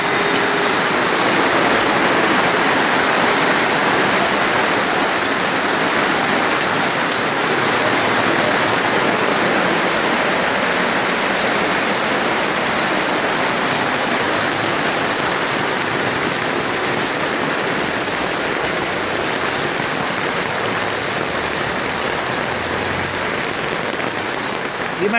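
Heavy rain and hail pound steadily on surfaces during a storm in Piraeus, a dense, loud, unbroken hiss and patter lasting throughout without talking.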